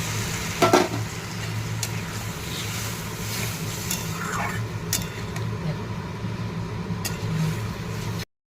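Strained mustard paste goes into lightly fried prawns in a pan and sets off a moderate sizzle, with stirring scrapes and clinks scattered through it.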